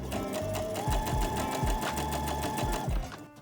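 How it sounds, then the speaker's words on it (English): A sewing machine runs a narrow zigzag stitch along a skirt hem, a close, loud, rapid mechanical chatter with a steady rhythmic pulse that stops at the end, with no talking. "narrow zigzag stitch, sew all along the hem, folding the hem up by a centimeter as you go."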